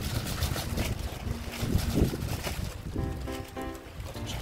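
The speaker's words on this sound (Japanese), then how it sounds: "風も吹いてきましたね。" Wind blows steadily outdoors beneath a grape trellis in the cool early evening, a broad rushing noise with gusty surges and faint rustling throughout.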